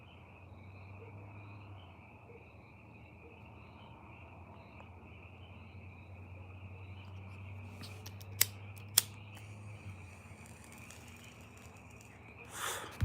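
Frogs croak together outdoors in a steady, low, continuous chorus, with a thin high drone running underneath and a couple of sharp clicks near the end.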